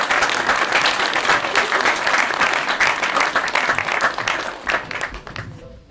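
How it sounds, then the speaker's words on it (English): An audience applauds a volunteer at a live parlour-magic stage show, dense sustained clapping close and loud, tapering off toward the end. "Ladies and gentlemen, a big round of applause for Shaheen."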